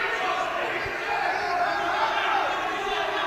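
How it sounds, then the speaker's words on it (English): A boxing crowd at the World Boxing Cup GB Open in Sheffield cheers and roars in a steady, continuous wash of noise while a commentator talks over it. "The crowd really getting up for this one now."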